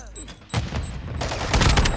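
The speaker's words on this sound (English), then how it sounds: "So I have a shotgun underbarrel on a shotgun." In a video game, a shotgun with a shotgun underbarrel lets off a quick series of heavy, booming shots that grow louder toward the end, mixed with game noise and a voice.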